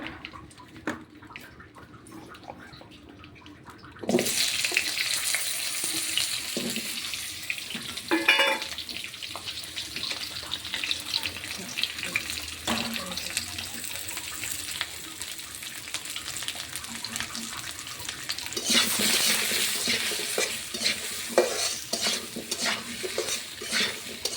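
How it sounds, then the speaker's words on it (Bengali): Potatoes sizzle in a pan while a utensil stirs and scrapes, with louder bursts of frying at intervals and occasional clatter, no talking. "আমি এখন আলুটা বেজে নিচ্ছি"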